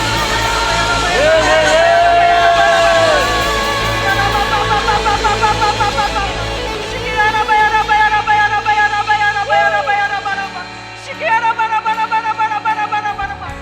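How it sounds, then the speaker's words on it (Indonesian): A church congregation at a Sunday worship service cheers and shouts loudly, with whoops and voices rising in waves over sustained music and singing, fairly close and filling the room throughout. "Tepuk tangan sorak-sorai bagi Tuhan Yesus."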